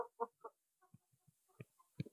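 A four-month-old Brahma rooster clucks in short, soft bursts, a few quick calls followed by lower scattered clucks, close by and alone without talk.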